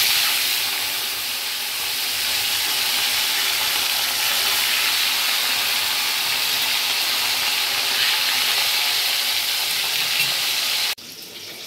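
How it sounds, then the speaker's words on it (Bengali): Katla fish pieces frying in hot mustard oil, a loud, continuous close-up sizzle and hiss that runs steadily, then drops sharply near the end. "এবার আমি মাছগুলো ভেজে নেব"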